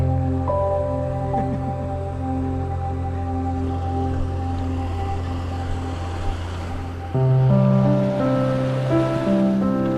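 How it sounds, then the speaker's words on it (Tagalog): River water rushes steadily beneath a low, constant motor hum, with the tone shifting near the end. "Nasa ilog na po kami"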